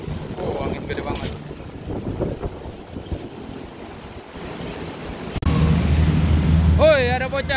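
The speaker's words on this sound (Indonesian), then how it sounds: "Oh, angin gede banget." Strong wind buffets the microphone outdoors, a steady loud roar with rising gusts that grows heavier toward the end, while voices talk under it.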